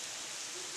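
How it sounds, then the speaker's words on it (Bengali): Heavy rain pours during a storm that has flooded the ground around a chicken coop, a dense even hiss of falling water with no gaps. "প্রচণ্ড পরিমাণে বৃষ্টি হচ্ছে"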